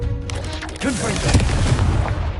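Confringo fire spell blasting in Hogwarts Legacy: a sustained burst of booming, crackling explosive noise over a low rumble, loud and close, with a voice shouting during it.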